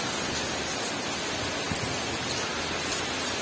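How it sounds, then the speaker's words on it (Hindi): Heavy rain pours down steadily in a dense, even hiss close by, with no voices and no clear thunder. "इतनी मोटी मोटी बारिश है ना,"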